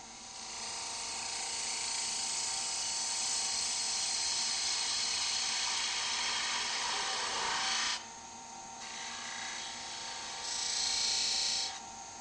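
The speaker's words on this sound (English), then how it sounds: "Switch the lathe off and check for a clean cut." A wood lathe turns a cup while a 3/8-inch fingernail spindle gouge cuts its outside, giving a steady high whine and hiss that shifts in tone near the end.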